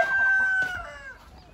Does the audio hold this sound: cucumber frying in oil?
no